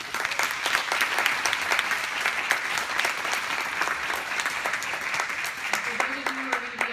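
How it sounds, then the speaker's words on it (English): An audience at the Blue Vision Summit in Washington applauds youth leadership panelists, sustained dense clapping filling the room, with a voice starting to speak under it near the end. "Let's please give them a round of applause."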